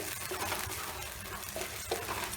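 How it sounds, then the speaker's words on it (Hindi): A shahi paneer mixture is stirred in a hot pan over low flame, giving a continuous soft sizzle and scraping with a few sharper clicks of the spoon. "अब हम मिक्स कर लेंगे"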